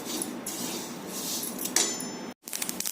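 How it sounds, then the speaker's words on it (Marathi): Flaxseeds roasting on a hot iron griddle over a medium flame give a dense, steady crackle and sizzle of tiny pops, fairly close, broken by a brief silence near the end before resuming. "जवस भाजताना असा तडतड आवाज येऊ लागतो."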